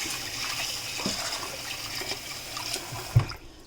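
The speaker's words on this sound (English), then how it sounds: "We're gonna wash our rice." Rice is washed in water by hand, a soft continuous swishing and trickling with light splashes and a small knock near the end, fairly close and quiet.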